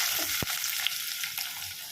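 Onions dropped into hot oil already holding cinnamon, cloves and cardamom, for Chennai street-cart vada curry, give a steady close sizzle with one sharp clack near the start and no voices.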